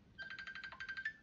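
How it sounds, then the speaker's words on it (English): A phone ringtone chirps in a quick electronic trill, a run of rapid repeated pulses that pauses briefly and then repeats, moderately loud over quiet background. "Pardon me for the phone."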